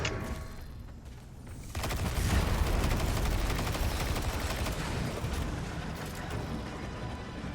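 Sustained automatic machine gun fire in the video game Destiny 2, a dense, loud rattling burst starting after a quieter opening and continuing steadily to the end.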